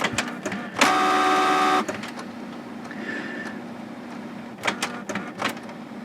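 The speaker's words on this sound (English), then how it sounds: "trying to get this printer to take paper in" A Canon MG5750 inkjet printer whirs loudly for about a second as its mechanism tries to pull in paper, failing to feed, followed by quieter clicks, clunks and faint motor hums.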